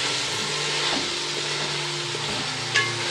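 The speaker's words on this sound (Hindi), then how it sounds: "इसको अब हम 1 मिनट के लिए फ्राई कर लेंगे।" Boiled beef fries in a pot for degi-style biryani, a soft continuous sizzle with scraping stirs of a spoon against the pot, close and steady with no talking.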